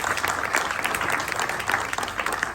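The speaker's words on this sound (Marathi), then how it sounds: "याबद्दल तर जोरदार टाळ्या झाल्या पाहिजेत" Applause from an audience at a health-festival award ceremony, dense steady clapping throughout at a moderate level, with no talk over it.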